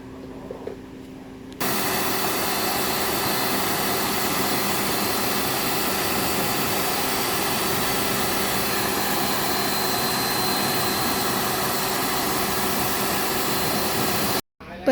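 Steady high-pressure spray washing the air conditioner evaporator of a Mitsubishi Pajero Sport, a dense continuous hiss that starts abruptly after a quiet moment and runs loud and unbroken until cutting off near the end.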